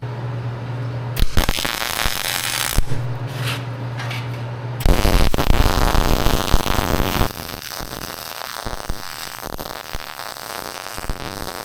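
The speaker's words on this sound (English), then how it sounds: "And then we'll just put some more weld in here." Welding on extensions for a silage wagon gives a loud, close crackle and sputter in bursts, with steady buzzing stretches and a harsher spell of spatter in the middle before settling to a quieter hiss.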